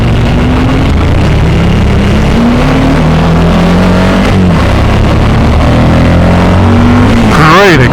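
A Suzuki V-Strom 1000XT motorcycle engine on a test ride in Fremont pulls hard under acceleration, its loud drone climbing and shifting pitch through the gears, close and continuous over wind rush, with a rider's voice faintly underneath.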